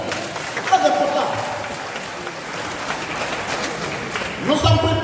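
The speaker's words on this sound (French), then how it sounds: "C'est pour ça que vous devez vous applaudir vous-même." Convention crowd applauding in a large hall, a steady wash of clapping throughout with a voice speaking over it and a brief swell near the end.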